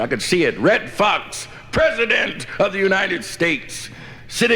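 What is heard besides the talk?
None of the usual background noises is heard.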